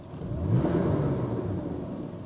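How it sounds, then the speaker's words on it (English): A retro luxury car's V6 engine gives a low burble as it revs, swelling quickly and then settling into a soft, steady rumble close by. "Even when you rev it. Oh, a nice little V6 burble."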